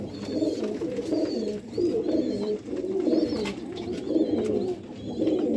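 Pigeons at a pigeon keeper's loft in Sialkot coo in low, rolling, overlapping calls that repeat steadily at close range, with faint higher chirps in the background.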